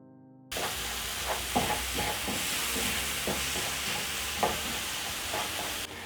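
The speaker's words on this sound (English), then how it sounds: "You let the tomatoes cook until soft." Tomatoes for a vegan lentil curry cook in a pan, giving a steady close sizzle with intermittent scraping stir strokes and occasional louder clacks, no voices.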